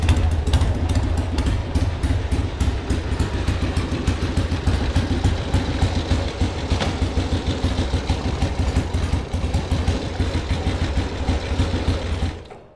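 An old Iron Head Harley motorcycle pulled from a barn after 25 years runs with a loud, rapid, rattling engine chatter close by, steady throughout before cutting off abruptly at the end.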